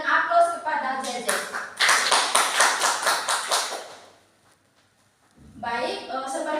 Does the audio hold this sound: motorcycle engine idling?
no